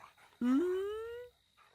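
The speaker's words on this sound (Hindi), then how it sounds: "इधर तो इंसान से ज्यादा कुत्ते हैं।" A dog lets out a single long whimpering yelp that rises in pitch and then fades, close and clear, with faint background noise before and after.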